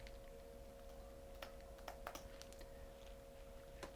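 Light keystrokes on a computer keyboard while a reason is typed into a work request form, a few scattered clicks over a steady electrical hum.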